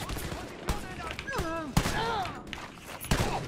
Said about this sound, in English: the shotgun is doing some massive work here